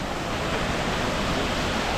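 Waterfall in Glencoe's hidden valley, a steady broadband rush of falling water filling the scene with no voices.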